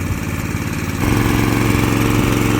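A small water pump engine, flushing out a hand-drilled well after flooding, drones loudly and close, then revs up to a higher, steadier pitch about a second in and holds there.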